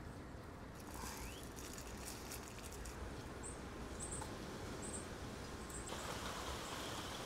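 Steady rain falls over an outdoor gardening workspace, a dense, even patter that holds at a constant moderate level throughout, with no voices.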